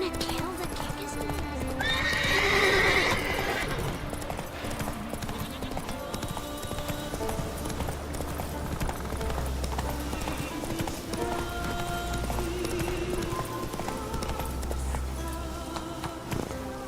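Hooves of Roach, a horse in the video game The Witcher 3, clip-clop steadily through the whole stretch under game music, with a clear whinny early on and a voice talking.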